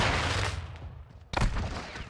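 Call of Duty gunfire from an M13 rifle, a dense rattle that fades out, then a sharp new burst of shots that rings on briefly.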